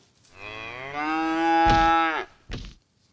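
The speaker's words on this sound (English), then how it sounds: "Now all the cows are gonna die." A cow lets out one long, loud, drawn-out moo, followed by a short grunt, close by with no other sounds.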